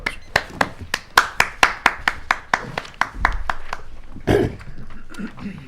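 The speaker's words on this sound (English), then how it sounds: "Let's give her a round of applause." Applause from a small audience at a Toastmasters meeting, heard as a string of distinct, fairly loud hand claps in steady rhythm that thins out near the end while voices murmur underneath.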